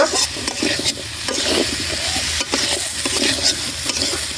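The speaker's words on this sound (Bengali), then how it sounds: "আমরা একটু চাপা দিয়ে দিয়ে কষিয়ে নিব" Radish is stir-fried and pressed in a pan for a radish curry, a steady sizzle punctuated by repeated scraping and stirring strokes of a spatula, close and clear with no talking.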